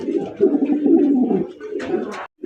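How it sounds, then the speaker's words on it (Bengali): Large Bombay pigeons at a farm coo in a loud, continuous low throaty rumble, close by, with a few sharper flutters near the end. "বিশাল বড় সাইজের বোম্বাই কবুতর"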